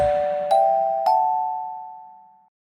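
A bright chime rings twice in quick succession, each ding sustaining and slowly fading out, clear and close with nothing else around it.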